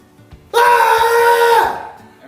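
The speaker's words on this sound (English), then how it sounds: "Would you like to demonstrate the scream for us?" A person lets out one loud, sustained scream of praise to God, about a second long, then trails off, with faint background noise around it.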